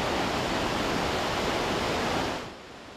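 Hagoromo waterfall at Tenninkyo hot spring in Hokkaido, a dense steady roar of falling water heard alone, fading down near the end.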